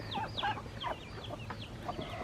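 Homestead hens clucking close by, a quick series of short, rising and falling clucks and squawks over a low background murmur, fairly quiet.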